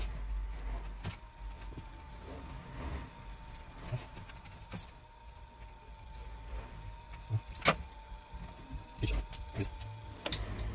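An ignition key clicks and jingles in the switch of a 30-year-old Polski Fiat 126p 600, several sharp metallic ticks scattered over a low hum, with someone talking quietly in the background.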